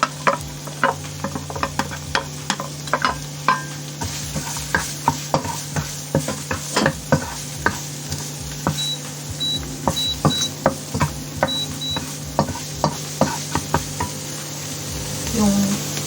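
Onion fries in a pan for tteokbokki while a utensil stirs it, giving repeated sharp scraping clicks in an uneven rhythm over a steady low sizzle, close by, with a few faint beeps partway through.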